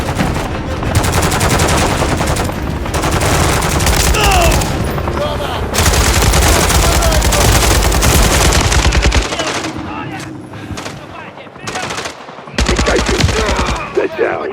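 Sustained automatic gunfire in the shooter game Call of Duty: Modern Warfare III, loud, dense bursts of rapid shots with brief pauses between volleys, mixed with game effects and a voice speaking over the action.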